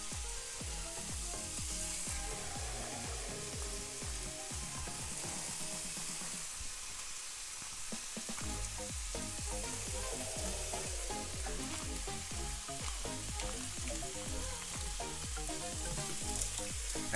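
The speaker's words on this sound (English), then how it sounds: "we're gonna start out by frying up some bacon." Bacon fries in a hot pan with a dense, continuous sizzle and crackle that holds steady throughout, soft and close with no voices.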